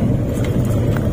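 A Karimun Wagon 1000cc car labours up a steep uphill road, its small engine giving a loud, steady, strained drone throughout.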